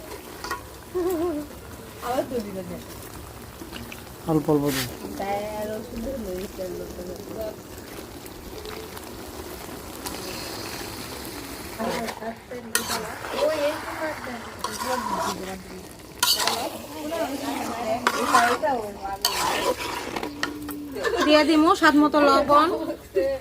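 Meat dropped into a pan of oil already cooked down with turmeric and chili powder, frying and sizzling with stirring, heard under fairly steady talking from a home cook.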